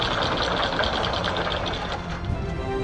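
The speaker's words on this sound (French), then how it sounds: "si vous avez entendu, le moteur a eu du mal à démarrer" A sailboat's engine idles with a steady low rumble and faint rhythmic knocking, close and continuous for the whole stretch, with no voices over it.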